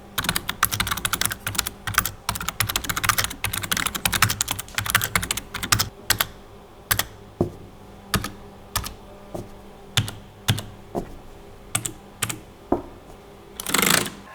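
Typing on a Razer Ornata Chroma mecha-membrane keyboard, first a quick dense flurry of clicky keystrokes, then slower evenly spaced individual key presses, ending in a short burst.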